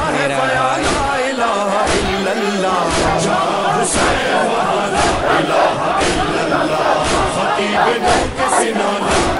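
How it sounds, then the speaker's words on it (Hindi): Large crowd at a Muharram procession in Jogibeer, a loud dense roar of many voices shouting and chanting, with sharp bursts and claps punctuating the continuous din close by. "बहुत ज्यादा भीड़ है"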